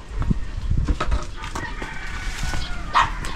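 A rooster crows amid busy outdoor farmyard noise, with scattered clucks and a faint voice in the background.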